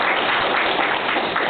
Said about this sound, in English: I want to give our panel one round of applause